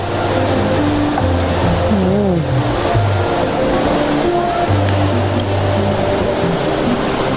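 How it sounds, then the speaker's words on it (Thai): A waterfall next to an outdoor breakfast area in Mae Kampong makes a constant, loud broadband rush. A low engine-like hum and faint background sounds run underneath it. "มานั่งทาน ริมน้ำตกเลยนะคะ อันนี้เห็นแล้วน้ำตกจ้ะอย่างนี้"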